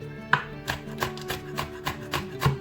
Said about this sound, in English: So I'm going to chop this and I will be add this chili as well inside